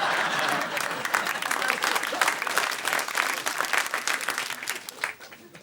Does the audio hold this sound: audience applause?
yes